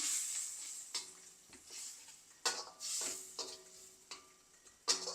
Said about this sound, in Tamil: இப்போ இதை நல்லா மிக்ஸ் பண்ணிவிடுவோம்